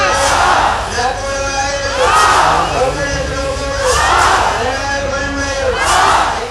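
A crowd at a temple flag-hoisting ceremony in Ottapalam bursts into loud rhythmic cheering and shouting, the massed cries swelling and fading in roughly four waves, each about two seconds apart.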